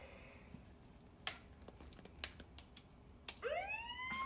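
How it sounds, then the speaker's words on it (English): Police car siren played by a Dot robot toy, heard faintly: a quiet room with a few scattered clicks gives way in the final second to a rising, wailing electronic siren tone that continues to the end. "Cop car."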